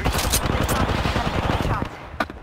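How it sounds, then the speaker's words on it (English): Rapid automatic gunfire in the video game Apex Legends, a fast burst of close, dense shots that cuts off near the end, followed by one brief single crack. "I'm taking fire."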